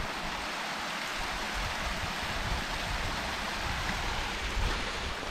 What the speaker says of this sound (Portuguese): Só que a cachoeirinha mesmo é lá embaixo, né?